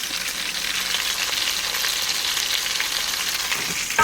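Pork chop sizzling steadily in a frying pan, a dense, even crackle of hot oil close up with no talking, a small pop near the end.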